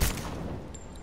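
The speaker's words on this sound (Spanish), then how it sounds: "Vale, ahora supuestamente si le disparo, a ver." A gunshot fired in the video game Rise of the Tomb Raider, a single loud burst at the start that decays into a rumbling tail over about a second, with no talking.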